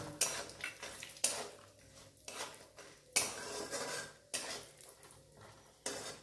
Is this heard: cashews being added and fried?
yes